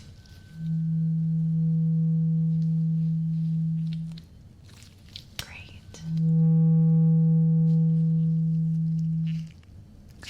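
Two long, steady low pure hearing test tones, each lasting about three to four seconds with a pause between, with a brief soft word spoken in the gap during an ear exam.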